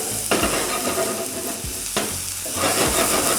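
Carrots and celery fry in a very hot cast iron pan, giving a continuous loud sizzle broken by a few sharp scrapes of stirring; close and steady, no voices.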